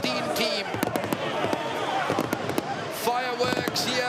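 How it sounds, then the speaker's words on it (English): Fireworks burst over Laudala Bay, Fiji, celebrating Queen Victoria School's win in the 2024 Deans under-18 schoolboy rugby final, a string of sharp pops and crackles over a steady crowd roar with shouting voices. "Fireworks here in Laudala Bay to celebrate QVS are the Dean's Champions"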